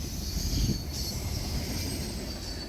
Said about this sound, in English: the train glides along the D&H in the morning sun